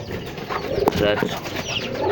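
Pigeons cooing at a home pigeon and poultry farm, soft close coos under a person speaking briefly.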